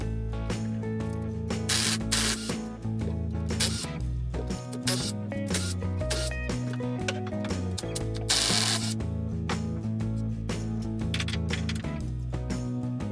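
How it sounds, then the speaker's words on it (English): A ratchet works loose the 12mm hex case bolts on a Kawasaki Ultra 300/310 jet ski supercharger, giving close, busy clicking and metallic mechanism noise with scrapes and handling bursts, no talk. "we're going to remove these 6 case bolts here. and they're 12mm hex."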